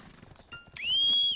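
Whistle calling a wagon in the online game Black Desert Online, a short rising two-part whistle that ends in a sustained bright tone over soft clip-clop hooves.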